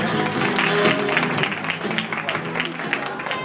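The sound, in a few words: audience applause for mock wedding couple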